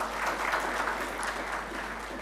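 A business forum audience applauds steadily, a fairly soft, even wash of clapping with no pauses.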